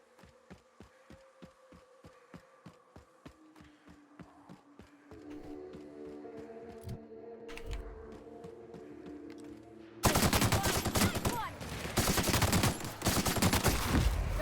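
Gunfire from a weapon in The Outer Worlds: a steady run of regular sharp shots at first, then a denser, louder roar of rapid fire over a game hum, with no talk.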